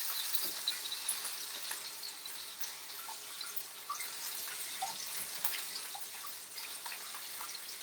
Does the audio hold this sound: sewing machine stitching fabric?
no